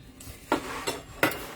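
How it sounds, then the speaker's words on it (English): A kitchen knife being cleaned off in a home kitchen, producing three short metallic scrapes and clinks spaced unevenly over a quiet background, close and fairly soft. "I'm cleaning as I go. I'm cleaning off my knife."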